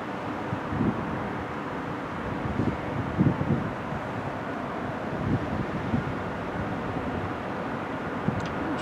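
Strong wind at about 10 to 15 mph buffets the microphone outdoors with a continuous rushing roar and occasional heavier low gusts.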